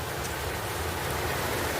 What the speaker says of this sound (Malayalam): ഗൈസ്, ഇത് നോക്കിയ മഴ കൂടി.